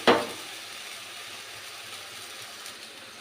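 A paste of ground mustard, poppy seed and turmeric hits a hot pan of oil with a brief loud sizzle at the start, then settles into a steady soft frying hiss that carries on alone.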